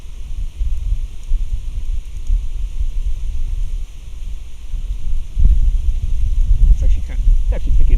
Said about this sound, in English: It's also a tad bit windy too.